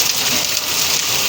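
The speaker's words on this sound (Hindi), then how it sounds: "तूफान तो थम गया है, पर बारिश लगातार लगी हुई है" Steady rain falls over a village after a storm, a dense, even hiss that stays loud and unbroken the whole time, with no voices.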